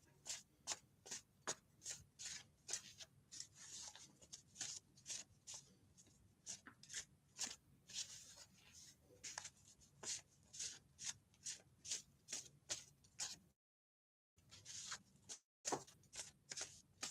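A set of index cards is handled and shuffled, a quiet, close series of rhythmic riffling and rubbing strokes repeating steadily, briefly pausing near the end.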